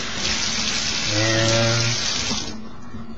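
Tap water gushes steadily into a sink while a cleaned crab is rinsed under it, a loud close hiss and splash that swells briefly in the middle before easing off.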